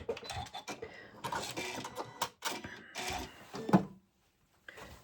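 A sewing machine running a lock stitch on a pinafore bodice, its rapid mechanical chatter coming in short bursts and stops close by, then cutting out into near silence before a brief restart.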